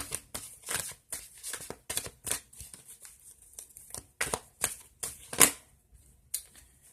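Affirmation cards shuffled and pulled from a deck, a run of quick crisp riffling bursts and soft slaps, close and clear, with brief pauses between rounds and no talking.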